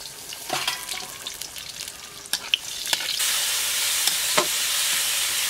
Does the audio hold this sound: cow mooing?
no